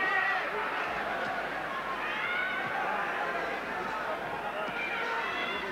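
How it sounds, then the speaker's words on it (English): A large American boxing crowd at a title fight sends up a continuous roar of oohs, ahs and murmuring, with commentary running over it at a distance. "there's lots of oohs and ahs there from the American crowd"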